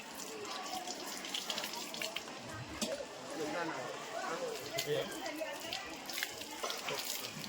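Water runs from a tap as schoolchildren wash their hands during a cleanliness-fortnight handwashing demonstration at a school, a steady splashing under almost continuous adult voices giving instructions.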